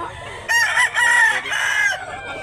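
A gamefowl rooster of the sweater breed at a poultry seller's in Mantalungon, Cebu crows once, loud and near, a drawn-out call of roughly one and a half seconds with no talk over it.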